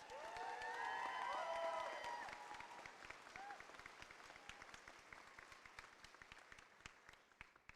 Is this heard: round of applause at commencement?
yes